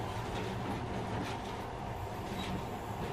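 A monorail train runs through underground metro tunnels in the video game Metro: Last Light, giving a steady, loud rumbling roar with faint rattling and no talking.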